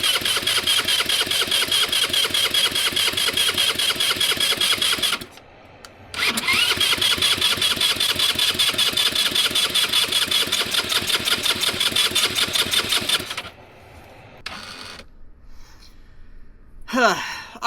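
A minibike's small engine with a brand new carburetor and spark plug cranks repeatedly without catching, a fast loud rhythmic chugging in two long runs with a brief pause between, then fading to quieter handling noises.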